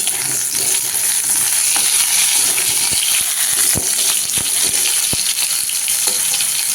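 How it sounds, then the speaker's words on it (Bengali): Steady, bright sizzling of potatoes frying in a hot pan on a gas stove, with occasional sharp clicks and scrapes as they are stirred. "ওদিকে গ্যাসের বসিয়ে দিয়েছি মাছের আলু ভাজতে"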